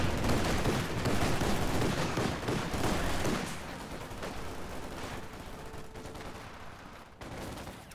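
Sustained bursts of MG34 machine gun fire and other gunfire in a World War II strategy video game, dense and loud at first, then thinning to lighter, more distant shooting with a brief sharp burst near the end.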